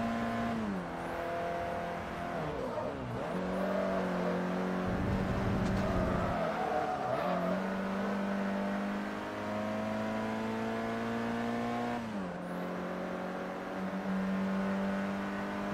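Racing car engines in Forza Motorsport 3 rev and whine continuously, pitch climbing and dropping with each gear change, with several cars close together and one passing near around the middle.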